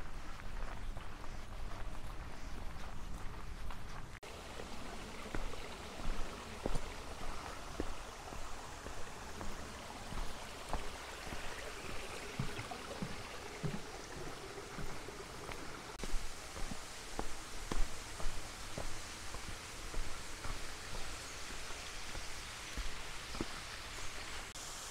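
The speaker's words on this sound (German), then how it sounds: "Links plätschert ein Bach." A small brook beside a mountain trail near the Ochsenberg above Oberstdorf-Tiefenbach trickles and babbles softly and continuously. Faint rustles and light taps are scattered through it, and there is no talk.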